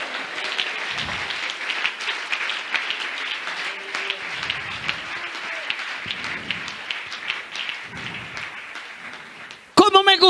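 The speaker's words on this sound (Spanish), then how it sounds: "Dale un aplauso a Jesús esta mañana." A church congregation applauds steadily throughout, a dense sustained clapping with a brief louder burst at the very end.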